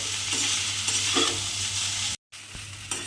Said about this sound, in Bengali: খুব ভালোভাবে চিড়েটাকে আলু আর পেঁয়াজের সঙ্গে মিশিয়ে একটু ভাজা ভাজা মতো করে নিতে হবে